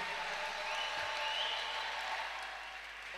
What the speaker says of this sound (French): Acclamez bien avec des cris de joie.